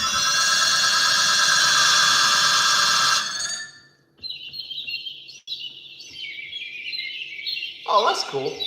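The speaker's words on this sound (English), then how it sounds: "Do y'all like the bird sounds?" Layered phone ringtones ring loudly and then cut off, giving way to thin, bright bird chirps and tweets in a steady run, with a brief low warble near the end.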